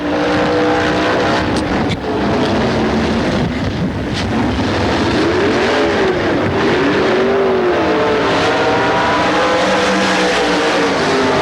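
A dirt track race car lapping alone in qualifying, its engine a loud, steady roar that rises and falls in pitch as it sweeps through the corners and down the straights.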